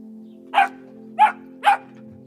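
A dog gives three short, evenly spaced barks over a low background hum.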